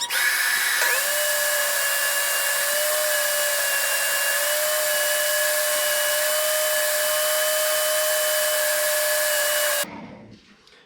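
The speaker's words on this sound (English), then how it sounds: "All right, we moved over to the table saw. Got the blade set just right." A table saw whines steadily at full speed while cutting wood freehand, loud and close, with a sustained tone that spins down and stops near the end.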